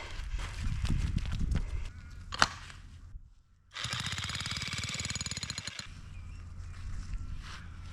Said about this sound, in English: Jackhammer for the win.